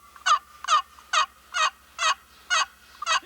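A homemade turkey call made of two pieces of wood is played in a steady series of seven raspy yelps, each short and evenly spaced, loud and close with no talking.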